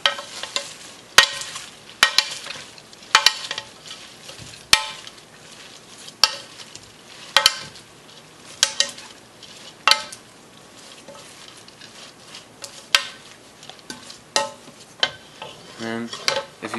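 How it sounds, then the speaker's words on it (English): Sauce being stirred through portobello mushrooms, spinach and quinoa: a steady soft scraping and mixing with repeated sharp clinks of a utensil against the pan or bowl, close and fairly quiet, with no talking. "So we'll put a little bit of the sauce over the top to begin with. And then we'll mix that together."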